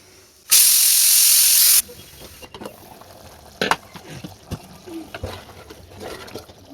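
A pressure cooker of beef kulambu lets out a loud, steady burst of hissing steam for just over a second after six whistles. Quieter kitchen clatter and a few sharp knocks follow.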